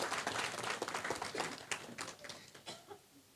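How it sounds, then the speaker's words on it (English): Scattered clapping from an audience at an Australia-Indonesia conversation forum on AI, thanking two institutions; moderately loud, uneven claps that thin out toward the end. "Please give a big round of applause to both of institutions."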